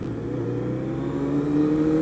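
A motorcycle engine hums steadily at close range while riding, with a low droning tone that rises slightly in pitch toward the end.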